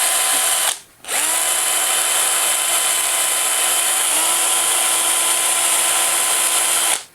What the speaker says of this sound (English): All right, it's time to drill the holes for the hook eyes.